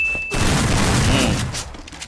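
Rapid gunfire rattles through a battle royale video game firefight, a loud, dense fusillade of shots running almost unbroken for about two seconds before thinning out near the end.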